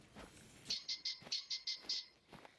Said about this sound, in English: Sounds like a ring-necked pheasant is in front of us.